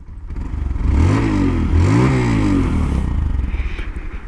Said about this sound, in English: Oh, I don't know if you guys can hear the motor here